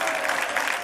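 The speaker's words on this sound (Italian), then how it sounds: "finché vi saluto voi dovete far scoppiare un applauso" Audience applause at a fashion-school technical event, a dense steady wash of clapping from a crowd throughout a very brief moment with no talk.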